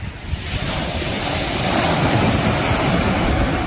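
Ocean waves and surf at Sandbridge Beach roll in as a steady, loud, continuous wash, with wind buffeting the microphone throughout and no voices.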